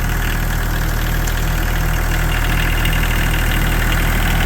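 Wacker Neuson WN803 excavator engine idling close by, a loud steady low diesel rumble with a fast even chug, no voices.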